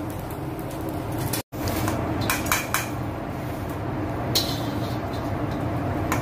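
Metal utensil scraping and clattering against a pan while Indonesian-style fried rice (nasi goreng) is dished out, with steady close clinks and scrapes, a brief silent gap, and no talking.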